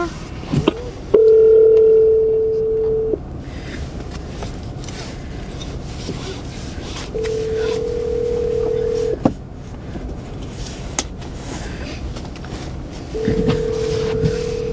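A phone call rings out unanswered while dialing a family member, the ringback tone sounding in three long steady tones separated by pauses, with faint room noise between them.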